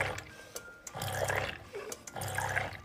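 An automatic sensing liquid filling machine dispensing into bottles: repeated short streams of liquid splashing and trickling in a regular rhythm, faint and close, with light mechanical clicks between fills.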